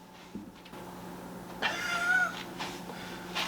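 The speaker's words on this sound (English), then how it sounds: "Stupid cats." Cats meowing close by, a few drawn-out calls rising over a steady low hum, with a louder cry in the middle and a shorter one after.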